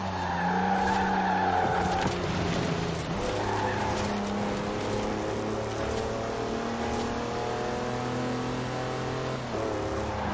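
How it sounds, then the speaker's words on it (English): A 4-wheel drive car on mud tyres slides sideways in a Forza Horizon 4 drift, its engine droning loudly and steadily with tyre scrubbing and skidding throughout, close and continuous. "That's a 4-wheel drive car on mud tyres completely sideways."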